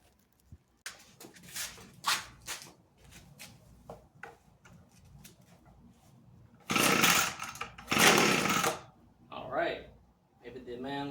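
An Echo leaf blower's small two-stroke engine is pulled, then catches with two loud roaring bursts that quickly die out, preceded by rattling and clicks of handling, with brief talk between.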